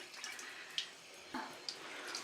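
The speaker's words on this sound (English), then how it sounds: "Let me rinse this off" Tap water runs steadily while someone rinses their face at a sink, a continuous wash with a few brief splashes and drips over it, fairly close and moderate in level, with no talking.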